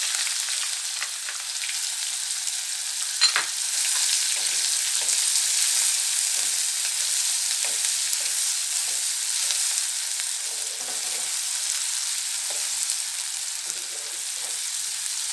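Onion and cumin frying in a pan for a Maharashtrian peanut chutney: a steady, close sizzle with soft crackles and a few stirring scrapes, continuous throughout with no talking.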